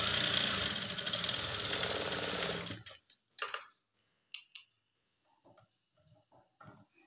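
A sewing machine stitches a lined blouse in a fast, even mechanical run for about three seconds. It then stops, leaving faint clicks and handling sounds.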